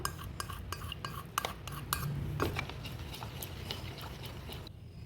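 A utensil stirs melted shea butter into oils for cold-process soap, with quiet clinks and taps against the container and soft scraping swirls, close by and fairly faint.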